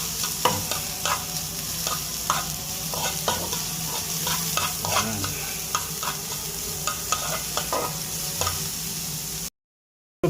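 Onion sautés in a little oil in a pan, a soft continuous sizzle with frequent spatula scrapes and taps, close and busy, and then it cuts to silence right at the end.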